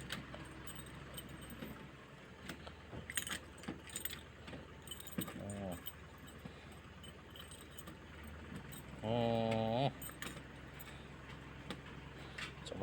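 A bunch of keys jangles and clinks against a loose door lock as someone works to open it, with scattered metallic rattles and taps, and a passing vehicle hum in the background.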